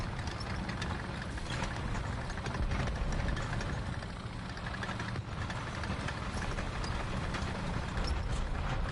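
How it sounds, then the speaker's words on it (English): A video game vehicle engine drones steadily and evenly throughout, a continuous low idling rumble with no voices over it. "you'll be able to hear his engine if he's going around."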